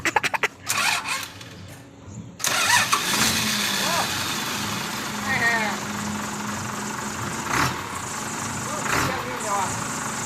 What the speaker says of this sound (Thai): ติดให้ดูหน่อยติดเครื่องดูไปบิดกุญแจดู